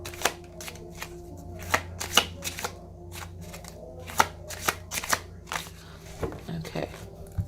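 Tarot cards being shuffled by hand, giving a string of crisp, close riffling snaps and flicks in an irregular rhythm, with quiet gaps between bursts.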